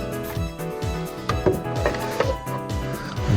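Hand saw cutting wood pieces to length against an adjustable stop while building a DIY cooler box stand, a steady run of rhythmic rasping strokes close by with light knocks of wood, no talking.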